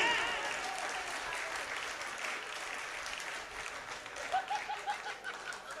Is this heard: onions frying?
no